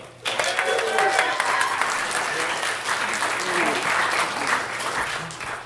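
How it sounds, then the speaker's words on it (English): A cinema crowd at a cult film screening gives a guest a thunderous round of applause, with dense, loud, sustained clapping and mixed cheers and whoops filling the room for several seconds. "Please give a gigantic and hearty and thunderous round of applause for Mr. Derek M. Cook."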